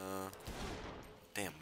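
Gunfire in the video game Saints Row the Third, a short burst of rapid shots between game voice lines, sharp and close, with a brief spoken line at the start and end.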